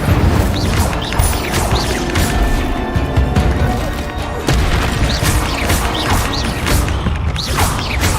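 Incendio fire spell cast during combat in the Hogwarts Legacy video game, loud bursts of whooshing flame and booming impacts with crashing, mechanical clatter, dense and continuous.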